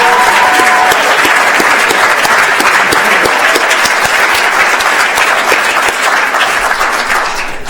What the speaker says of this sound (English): So please join me in giving all of our competitors another round of applause.